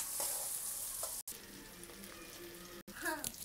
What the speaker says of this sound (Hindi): आपको इसको कंटिन्यू चलाते रहना है,